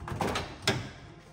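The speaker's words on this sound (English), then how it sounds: "And we're going to open this door up just for a second." A car door opens inside a garage, giving a short latch click and a swing of the door, with a second sharper clunk partway through, heard close and on its own without talk.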